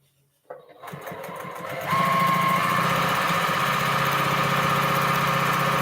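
A sewing machine stitching a quilt top starts up and quickly settles into a steady, close, continuous whirring hum that runs unbroken to the end.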